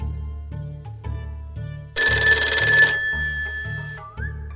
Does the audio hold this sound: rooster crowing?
no